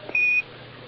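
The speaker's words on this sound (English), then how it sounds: "Give us a reading on the 1202 program alarm." A single short, high electronic beep of the Apollo 11 lunar module's 1202 computer program alarm during the 1969 Moon landing sounds over a faint hiss of radio static, then stops.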